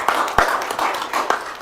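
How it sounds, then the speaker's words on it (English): Short burst of scattered hand claps at a pre-agenda council meeting, a few people applauding lightly with irregular taps for about a second and a half, fairly close. "I think that deserves an attaboy applause for that kind of money"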